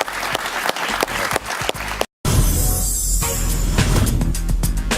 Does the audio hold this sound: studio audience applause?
yes